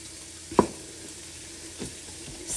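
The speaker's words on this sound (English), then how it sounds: "I like my onions to kind of cook down and get soft" Onions sizzle softly in a pan for a quick chicken curry, a steady low hiss broken by a couple of sharp utensil knocks as they are stirred, with no one talking.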